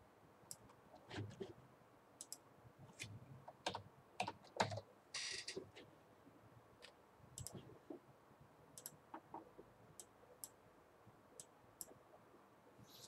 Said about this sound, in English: let me type the answer in your textbook